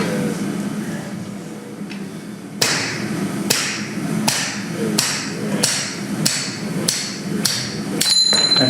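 Hammer blows striking the front of a drift lodged in a forged axe eye at a blacksmith hammer-in, about ten sharp metallic strikes at a steady rhythm, loud and close over a low background rumble.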